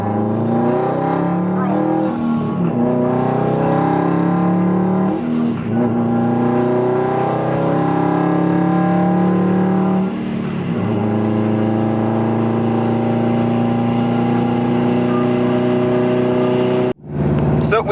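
Subaru WRX STi engine revving hard and continuously nearby, a loud rising and falling exhaust roar with repeated throttle swells, ending in a brief sharp cut near the end.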